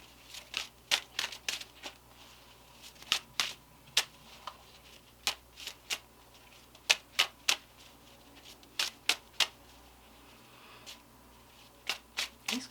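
Tarot cards are shuffled by hand in quick bursts of sharp, crisp riffling snaps, close and fairly loud, repeating unevenly over a quiet room background.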